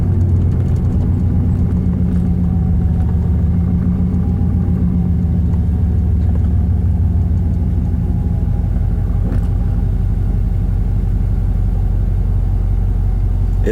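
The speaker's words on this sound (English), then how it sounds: "It idles pretty low" Truck engine idling low and steady, a continuous deep rumble with a faint rhythmic pulse holding close and loud throughout.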